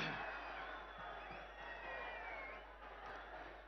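Crowd at a large outdoor public meeting in Jagtial district, Telangana, applauding and cheering as a state minister is invited to preside; faint, distant clapping and whoops spread across a noisy crowd hum.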